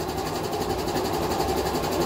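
An old BSA engine from a farm auction is turned over by hand in a workshop, a steady rapid mechanical whirring and clatter, close and fairly loud, with no voices.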